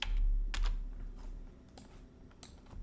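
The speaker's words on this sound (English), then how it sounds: "I'm going to type weld vertices." Quick bursts of close keystrokes on a computer keyboard while working in Maya-style 3D modelling software, a short run of taps, then scattered clicks, with no talking.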